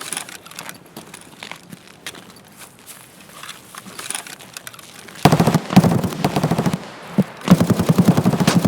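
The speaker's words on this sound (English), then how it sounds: "Big gunfight up ahead. Big burst of a gunfight." Gunfire from a gunfight in the video game Escape from Tarkov, a faint distant crackle at first, then louder rapid bursts of automatic fire breaking out in rattling volleys toward the end.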